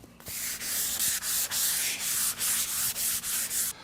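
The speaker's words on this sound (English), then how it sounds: "the first thing you need to do in order to get a super shiny finish is, you guessed it, sand it very smooth." Wood being sanded smooth by hand for a high-gloss finish: steady rhythmic rasping strokes, about nine back-and-forth passes, close and loud with no talk.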